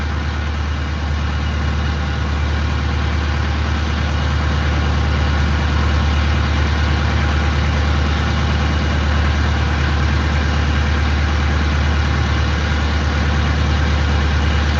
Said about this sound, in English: I can't hear it. My engine's so loud.